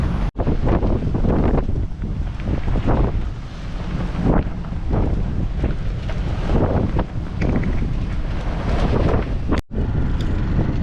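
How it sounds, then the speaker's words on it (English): Strong wind buffets a sailboat in the Bahamas with storms approaching, roaring loud and continuous across the microphone while waves wash in the background. "mostly protection from the south where the wind's coming from right now"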